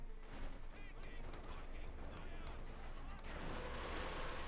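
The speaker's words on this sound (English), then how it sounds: "Now, Katyusha Barrage home to wipe from units aside from Luciano's base here." Katyusha rocket barrage in Company of Heroes 2, a dense wash of overlapping blasts and crackling impacts that swells louder near the end, with a voice talking over it.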